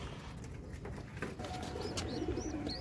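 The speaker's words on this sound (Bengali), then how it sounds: "এটা হচ্ছে লাল কবুতর বাচ্চাটা" A red pigeon chick in a wooden coop gives soft, low cooing notes in the second half, close by, with faint higher chirps from other birds and steady background hiss.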